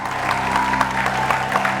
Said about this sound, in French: Je pense que ça s'applaudit très fort